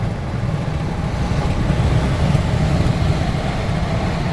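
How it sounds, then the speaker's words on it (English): Steady, loud wind roars and buffets past a 2014 Chevrolet Silverado 1500 High Country pickup towing a 28-foot travel trailer at 65 mph, a constant low rumble with no talking. "Little bit of a windy day."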